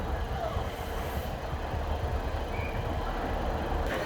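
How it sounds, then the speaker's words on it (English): A train pulling out of Chester train station, a continuous low rumble and rattle heard at a moderate distance amid open platform ambience, with faint background noise and no clear speech. "Look, the new train's going now."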